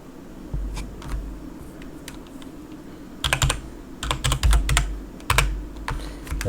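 Fingers type on a computer keyboard during a Linux install, with close, crisp key clicks coming in irregular bursts and short pauses.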